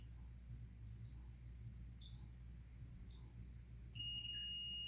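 A multimeter's continuity tester, probing a flimsy switch on a Yihua 898D hot air and soldering station, gives a steady high electronic beep near the end after a few faint clicks.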